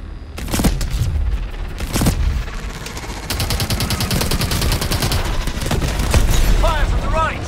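Call of Duty Advanced Warfare combat: rapid automatic gunfire rattles in long bursts, with heavy booming shots early on and a steady chatter later, mixed with other battle noise.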